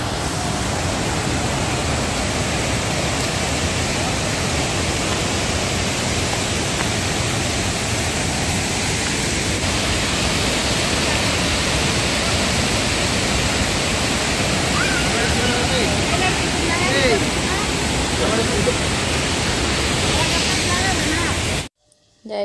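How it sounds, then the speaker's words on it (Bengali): Lodh Falls near Ranchi pours from a great height over a wide area, heard as a loud, constant broadband roar of falling water that fills the whole scene and cuts off abruptly at the end. "আর এটা অনেক দূর থেকে ফলসটা পড়ছে, অনেকটা এরিয়া নিয়ে।"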